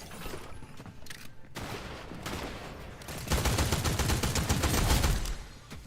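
Loud, rapid gunfire in a video game, bursts of shots building to dense automatic fire that swells louder in the second half, with mechanical clicks and rattles between the volleys.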